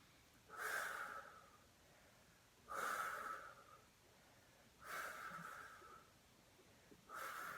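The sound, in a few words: breathing during Pilates exercise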